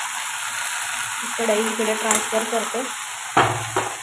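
Vegetable curry (bhaji) cooks in a pan on a gas stove over a low flame, giving a continuous soft sizzling hiss with a brief metallic clank near the end while someone speaks over it.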